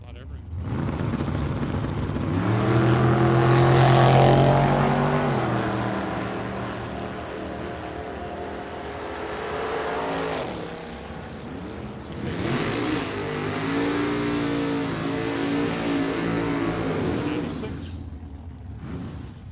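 A car does donuts at the Tucson Dragway, its engine roaring loud with rising and falling revs and tire noise across the whole stretch, swelling early, easing, then building again.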